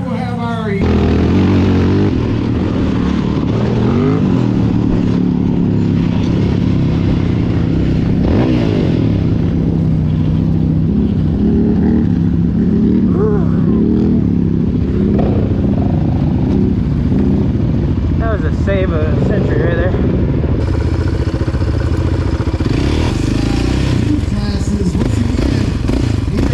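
ATVs race on the motocross track at CORS Racing, Carolina Adventure World, their engines revving and roaring loudly and continuously with clattering and scraping, while people talk over the noise.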